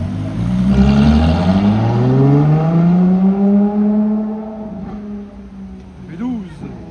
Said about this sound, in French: Encore une petite Porsche place du Casino, 3RS 992 avec les jantes bleues